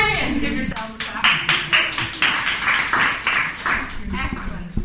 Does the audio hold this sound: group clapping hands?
yes